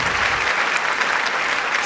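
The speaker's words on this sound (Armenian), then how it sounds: "եկեք մի հատ շատ ջերմ ծափարենք այս հրաշալի զույգին" Warm applause from a stand-up comedy audience for a couple on stage, a dense, steady wash of clapping that stays loud and even from start to finish.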